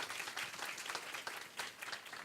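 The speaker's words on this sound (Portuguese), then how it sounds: "Uma salva de palmas" A brief round of audience applause greets a specialist being introduced at a lawyers' association event in Espírito Santo, Brazil, with soft, fairly distant, busy clapping and no voices.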